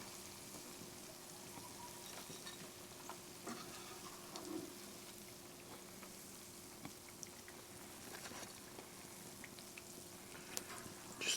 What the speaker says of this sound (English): Just takes a couple minutes to fry them.